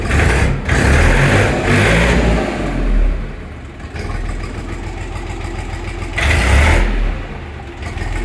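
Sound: Kentavr 244SX mini tractor engine started and running

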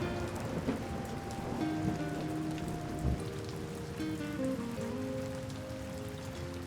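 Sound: rain pouring down

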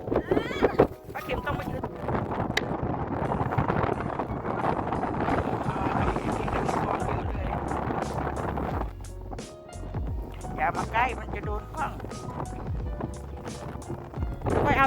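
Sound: strong wind blowing outdoors at a ski area

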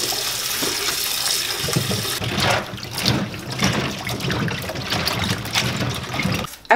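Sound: washing squash under running water in the sink

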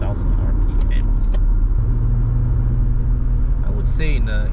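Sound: car engine revving as the accelerator is pressed

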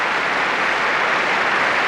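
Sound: concert audience applause at the Proms

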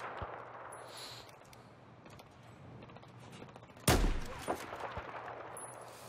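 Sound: gunfire in a video game

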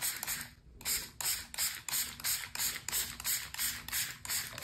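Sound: spray bottle spraying liquid watercolor on paper

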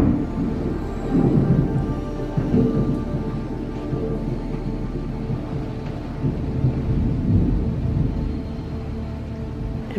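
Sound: thunderstorm with thunder and hail

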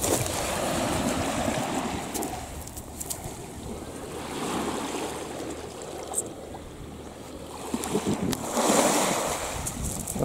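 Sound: waves on the beach with the tide coming in

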